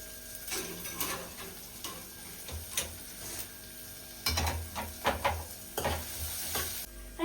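Onions fry in a pan for egg curry, sizzling steadily while a utensil scrapes and stirs in repeated bursts, close and fairly loud with no talking.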